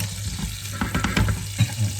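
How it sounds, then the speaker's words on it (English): Sliced pre-boiled potatoes sizzle and crackle in a hot frying pan, with scattered pops and brief stirring or scraping sounds, close up and without talk. "And we throw them into our frying pan like this."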